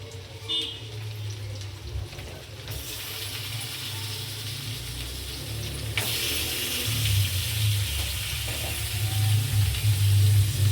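Chicken pieces drop into hot oil with frying onions, a steady sizzle that swells louder partway through, with clinks of a utensil and no talk.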